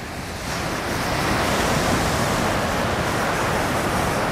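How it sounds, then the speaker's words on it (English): Ocean surf breaking steadily on an Outer Banks beach, a continuous loud wash of waves with wind buffeting the microphone, rising in the first half second and holding, no voices. "Looks like the surf's starting to build a little bit."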